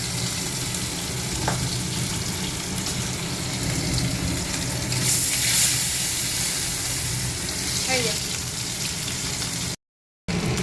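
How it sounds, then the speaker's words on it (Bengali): Fish sizzles steadily in hot oil in a wok, a continuous bright frying hiss with an occasional small pop that carries on evenly throughout. "মাছগুলো ভেজে নেবো,"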